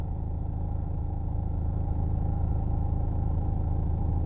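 Steady traffic on a crowded Jamaican coastal highway under construction, with cars packed ahead and behind, gives a continuous low engine rumble and road noise close by, with no voices.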